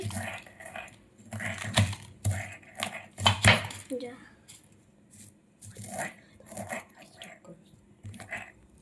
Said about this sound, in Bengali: আমরা চিপস গুলোকে এবারে গুঁড়িয়ে নিচ্ছি।